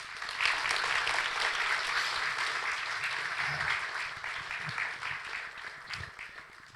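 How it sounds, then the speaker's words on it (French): A church congregation applauds at a Sunday service, a dense even wash of clapping from a crowd that holds steady, then thins slightly toward the end. "On peut l'applaudir."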